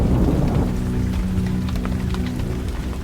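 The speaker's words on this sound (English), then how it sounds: "The storm intensified." Heavy rain pours through a stormy night while low thunder rumbles continuously beneath it, loud and close, with dense patter throughout.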